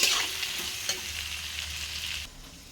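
Salted onions frying in a pan for chicken curry, with a strong close sizzle and stirring scrapes that continue steadily, then drop suddenly quieter near the end.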